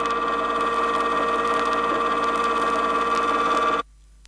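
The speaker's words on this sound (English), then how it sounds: "the sound of the gears is definitely objectionable and could be classified as noise" Rear axle gears whining under load on a 1970 Chrysler with incorrect pinion depth, the drive gear contact pattern at the extreme ends of the teeth; a steady, loud tonal hum holds for almost four seconds, then cuts off abruptly.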